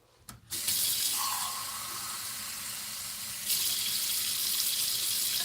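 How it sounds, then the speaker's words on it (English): Water from a tap runs into a can, starting after a clunk and then a steady hissing stream that swells louder partway through as the flow increases. "I fill up this can 2 times and then I put it in there with water."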